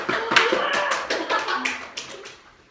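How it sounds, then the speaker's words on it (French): A small class of students claps for themselves, a short burst of scattered, uneven hand claps with children's voices mixed in, fading within a few seconds. "Applaudissez-vous. Beaucoup. Avec enthousiasme."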